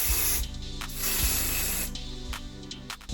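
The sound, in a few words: spraying wig adhesive spray underneath lace closure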